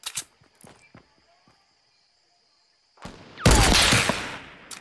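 Gunfire in a Fortnite battle, a few sharp isolated shots early, then a long quiet stretch before a loud, sustained burst of rapid shots near the end.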